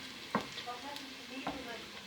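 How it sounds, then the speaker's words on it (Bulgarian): Garlic frying in a pan as the start of a dish of pig kidneys with onions, a quiet steady sizzle with two sharp utensil clinks against the pan. "Сложихме чесъна да се запържи малко."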